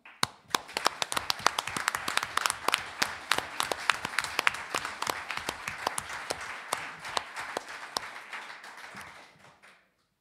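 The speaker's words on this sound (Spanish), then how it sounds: "quiero pedir un aplauso para Sol de Paz Pachacuti por hacer posible esto" Applause at a women's gathering, many hands clapping in a crisp, distinct rhythm of individual claps that holds steady for several seconds before tapering off and stopping.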